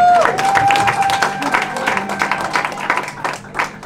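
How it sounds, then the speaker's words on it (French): A church wedding congregation breaks into loud, sustained applause, a dense crowd of hands clapping continuously throughout, with a brief voice at the very start. "Est-ce qu'on peut acclamer le Seigneur?"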